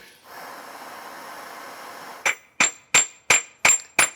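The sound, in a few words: hammering metal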